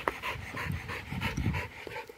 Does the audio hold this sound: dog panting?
yes